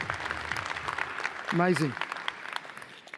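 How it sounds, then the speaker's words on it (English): Applause for a conference panel rises and fades under a short spoken exclamation, moderately loud and fairly brief. "A round of applause for our panellists, please."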